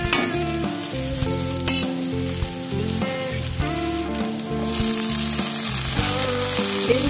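Eggplant pieces fry in fish oil with onion in a pan, a loud continuous sizzle with crackling and stirring scrapes, the hiss rising sharply partway through, heard close with no speech.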